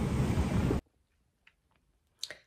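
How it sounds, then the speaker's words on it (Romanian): Wind gusting hard against the microphone outdoors on a walk, a loud rough rush for under a second that cuts off abruptly, leaving near silence with a few faint, scattered sounds. "Bate vântul!"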